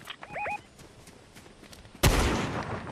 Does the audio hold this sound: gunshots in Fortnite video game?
yes